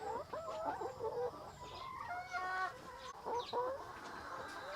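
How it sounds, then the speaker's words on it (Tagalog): Chickens clucking and calling in their bedding, a steady chorus of nearby hens with overlapping short clucks and brief higher squawks throughout. "mag-scratch na sila mga manok, no? Malipay sila ng scratching."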